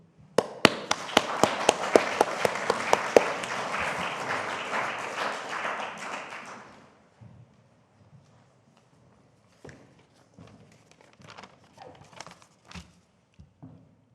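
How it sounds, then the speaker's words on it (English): A large audience at a Holberg Prize event applauds loudly for about seven seconds with crisp individual claps, then falls quiet. Scattered taps and small movements follow in the hushed hall. "I'd like to invite you to join me now in applauding the Holberg Prize for the wonderful work that they do."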